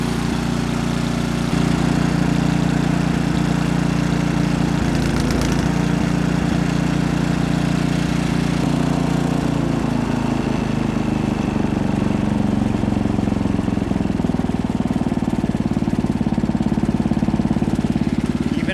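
A Craftsman snow blower engine, just back from a carburetor clean and jet drilling, idles steadily and loudly close by, its even chugging continuing throughout with a slight shift in pitch partway.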